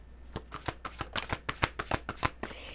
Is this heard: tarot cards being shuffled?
yes